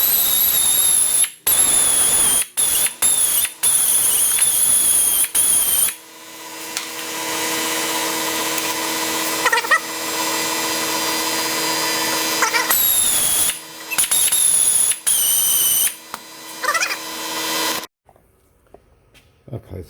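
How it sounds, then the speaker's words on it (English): A wire wheel on a power tool cleans Audi A6 rear brake pads. It whirs loudly in several short bursts, then a long continuous grinding run and more bursts, with a faint tail at the end. "let's give them a little spin with wire wheel"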